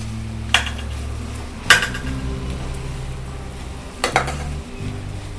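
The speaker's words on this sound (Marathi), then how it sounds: "मटकीला सर्व मसाला लागेल असं हलवून देऊ छानपैकी." Sprouted moth beans are being stirred with spices in a pan for a Kolhapuri usal, with a few distinct utensil scrapes and clinks over a steady low sizzle and background hum.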